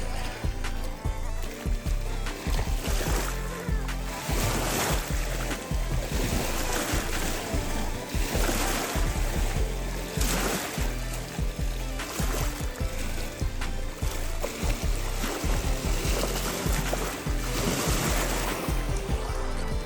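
Seawater washes and laps along a secluded shore at Jamki Navapur near Surat, a continuous rushing sound mixed with heavy wind buffeting, fairly close throughout.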